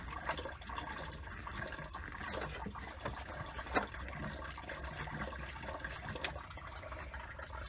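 Coolant trickles and drips from the engine of a Mercedes W163 ML320 during a DIY coolant change, a faint irregular patter of liquid with a couple of sharper splashes and no speech.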